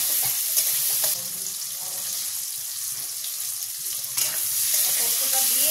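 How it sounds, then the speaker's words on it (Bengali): Poppy seeds stir-frying in a pan with tender hog plums, a continuous close sizzle with soft scraping stirs and faint watery sounds. "পোস্তটা দিয়ে একটুখানি কষিয়ে নিতে হবে, যাতে পোস্তর যে কাঁচা গন্ধ সেটা চলে যায়।"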